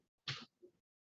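One short, sharp sneeze bursts out close by during a quiet courtroom-style virtual meeting, followed by a faint breathy aftersound.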